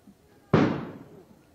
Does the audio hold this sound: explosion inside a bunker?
yes